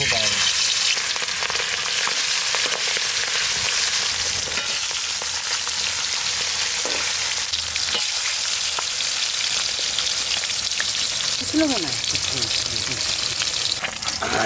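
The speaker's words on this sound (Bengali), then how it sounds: "এখন ইলিশ মাছ ভাজবো তার জন্য সর্ষের তেল" Steady, dense sizzling of hilsa fish frying in hot mustard oil, continuous crackle throughout with occasional faint stirring sounds and a brief voice in the background.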